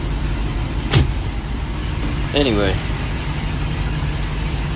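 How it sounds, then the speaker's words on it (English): The engines of a 2006 Sea Ray Sundancer 37 ft express cruiser idle with a steady low rumble. A sharp knock comes early, and someone speaks briefly over the drone. "engines fire up good"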